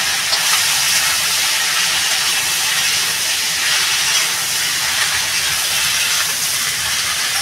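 Bottle gourd poured into a hot pan for a fish lau ghonto, releasing a loud, dense, continuous hiss of steam and sizzle that holds steady from start to finish.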